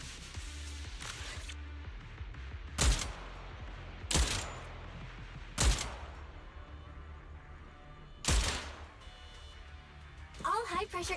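Loud, sharp gunshots in a shooter video game, spaced a second or two apart, each crack standing out clearly over a steady low game ambience.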